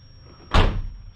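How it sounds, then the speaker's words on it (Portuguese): One firm, heavy thud as a VW Saveiro car door with newly replaced rubber seal is slammed shut up close, followed by a short dull resonance. "Deixa eu fechar mais forte."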